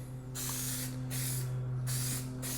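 Stoner's Trim Shine is sprayed onto a car's plastic trim and honeycomb grille in two separate sharp, hissing bursts from a spray bottle, with a steady low hum underneath.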